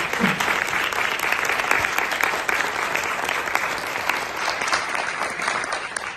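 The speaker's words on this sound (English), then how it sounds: "I just want to give them a round of applause" A civic gathering's audience applauds a standing Stanford team with sustained, dense clapping from a large crowd, loud and steady for several seconds without speech.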